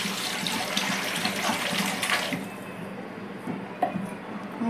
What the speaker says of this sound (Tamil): இப்போ நம்ம இந்த கரைச்சி வச்சுருந்த தண்ணி ஊற்றிடலாம்.